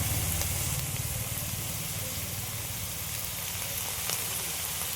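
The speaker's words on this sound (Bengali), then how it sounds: "এই তেলের মধ্যে দিয়ে দিচ্ছি কাঁচা লঙ্কা পেঁয়াজ রসুন আদা বাটা দিয়ে দিচ্ছি" Green chilli, onion, garlic and ginger paste sizzles steadily in hot oil, a continuous close hiss with a low rumble underneath, no voices.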